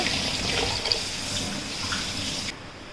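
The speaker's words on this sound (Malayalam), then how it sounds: "ഇത് പച്ചവെള്ളമല്ല ഞാൻ ഒഴിച്ചു കൊടുക്കുന്നത് ചൂടുവെള്ളമാണ് തിളപ്പിച്ച വെള്ളമാണ് ഞാൻ ചേർത്ത് കൊടുക്കുന്നത്" Hot boiled water poured into a pan of vermicelli upma: a continuous close splashing pour that stays steady, then drops to a softer hiss as the flow ends.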